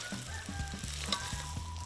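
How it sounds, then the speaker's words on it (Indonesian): Vegetables and petai stir-frying in a hot pan with simple spices of shallots, garlic and chili, giving a steady close sizzle with repeated scraping stirs of a utensil throughout. "sayuran serta petai pun dimatangkan atau ditumis hingga sedikit layu bersama bumbu rempah sederhana"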